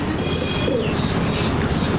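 Teddy pigeons coo softly over a dense, steady background murmur, the low rolling calls blending into a continuous hum at close range.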